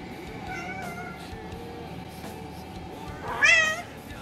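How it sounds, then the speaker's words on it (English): A pet cat meows once, clearly and fairly close, near the end of an otherwise quiet stretch of low room noise. "That's my cat."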